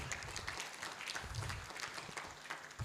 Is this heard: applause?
yes